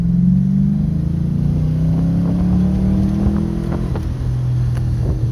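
A smoky-running Ford Mustang revs hard in second gear, its engine note climbing steadily, loud and close from inside the car.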